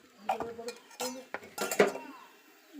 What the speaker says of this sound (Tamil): பச்சை வாடை போனோன்னு நல்லா வதக்கி விட்டுக்கிட்டு